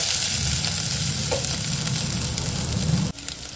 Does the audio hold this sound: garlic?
yes